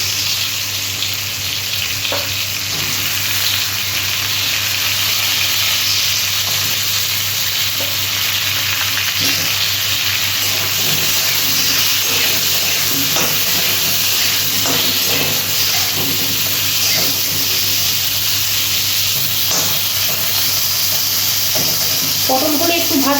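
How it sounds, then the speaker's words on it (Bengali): Pieces of pointed gourd fry in oil in a kadai for a potato and prawn curry, a loud continuous sizzle and hiss close by. Occasional scrapes and stirring knocks come through, with no talking. "পটলগুলো একটু ভাজা ভাজা হয়ে আসলে তারপর আমি আলুগুলো দিয়ে একবারে ভেজে নেব।"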